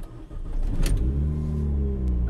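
A MINI Cooper S R53 John Cooper Works GP1 supercharged engine revs hard and pulls away up the road, rising loudly and close after a brief low idle.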